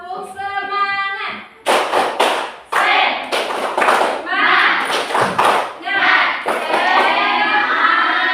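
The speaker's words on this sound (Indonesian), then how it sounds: "Kita tepuk semangat dulu ya." A class of children in an Indonesian classroom performs the 'tepuk semangat' chant, shouting in unison between loud rhythmic bursts of group clapping and thumps. A teacher's voice opens the sequence, and the whole thing is close and energetic.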